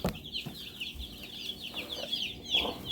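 Baby Cornish Cross meat chicks, a batch raised for the family table, peep in quick high chirps that overlap continuously, close by, with no one talking.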